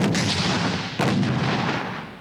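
Two heavy RPG-7 grenade launcher blasts about a second apart at a military training range, loud and booming, with rumbling echoes fading away outdoors.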